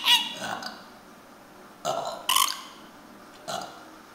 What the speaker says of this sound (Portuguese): Arrota.